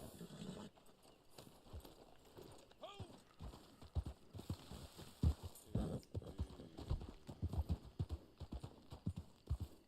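Horse hooves clip-clop at a gallop in the online Western game Red Dead Online, a steady run of close thuds under ongoing game sounds, with a brief whinny and spoken voices mixed in.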